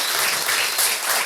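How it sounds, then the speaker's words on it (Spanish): A television audience applauds steadily for a guest on a talk show, a dense, even wash of many clapping hands with no voices on top. "le den una vez más un fuerte aplauso a mi espectacular invitado de esta noche"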